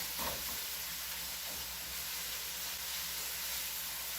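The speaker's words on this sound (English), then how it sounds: "hit your onions with your spatula to have them kind of come apart" Onions frying in a pan, a steady low sizzle and hiss with a couple of soft scraping knocks early on as a spatula breaks them apart, faint and without talk.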